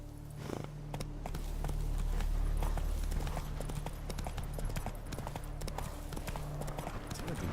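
Horse hooves clip-clop steadily in Witcher 3, a continuous rhythmic walk at close range over a low ambient hum, with no voices over it.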